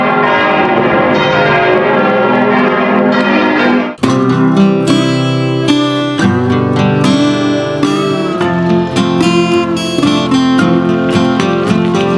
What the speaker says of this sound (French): Un beffroi en chêne massif de l'église de la ville de Lenzburg.